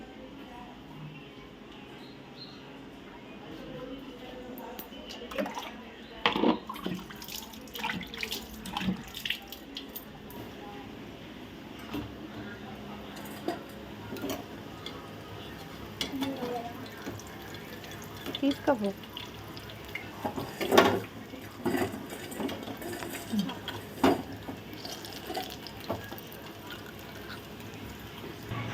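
Tap water running into containers at home during a water shortage, with intermittent splashes and drips across the whole stretch, moderately close, while people talk now and then.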